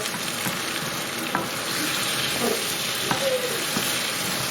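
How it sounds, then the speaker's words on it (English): Onions fry in a pan on an induction hob with the heat turned down. They give a steady, close sizzle and hiss, with an occasional soft clink of stirring. "As you can see now from the cooking, the onions are caramelising up and melting down nicely."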